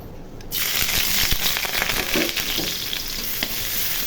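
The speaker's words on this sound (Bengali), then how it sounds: "পেঁয়াজগুলো একটু ভেজে নিব" Chopped onions hit hot oil and a steady, loud sizzle takes over, continuing evenly with faint crackles throughout.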